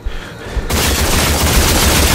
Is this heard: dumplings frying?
no